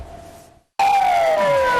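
An ambulance siren on a vehicle with flashing lights, in Congo: a loud, close wailing tone that cuts in abruptly after a brief silence and sweeps downward, with no talking.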